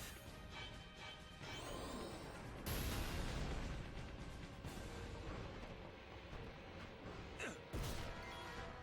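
Fire Breath attack in Final Fantasy X, a loud burst of crackling, roaring blasts with sharp crashes at about three, five and eight seconds over a continuous rumble of battle effects.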